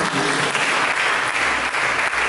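Dense congregational applause fills an Indonesian church service, loud and continuous from start to finish, a thick unbroken patter of many hands with no speech on top.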